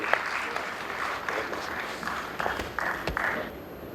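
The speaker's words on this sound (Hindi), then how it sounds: "इतनी तालियां बजाइए" An audience applauds at a Rotary Allahabad Midtown blood donation van event, with fairly faint, scattered clapping spread across the short span.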